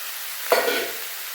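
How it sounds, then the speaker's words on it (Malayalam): A single brief scrape and soft sizzle as avial vegetables with ground coconut paste, turmeric and salt are stirred in a pan, close and short against quiet background hiss. "എല്ലാം കൂടെ ഒന്ന് ഇളക്കി കൊടുക്കാം."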